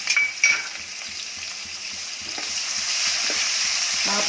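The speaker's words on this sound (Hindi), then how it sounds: "अब इसमें प्याज डालेंगे और इसको गुलाबी होने तक" Onions fry in a pan for potato pulao, with two sharp utensil clinks at the start and then a steady, close sizzle that grows slightly louder, punctuated by light stirring.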